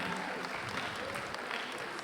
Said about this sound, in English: Ladies and gentlemen, I believe he deserves a round of applause.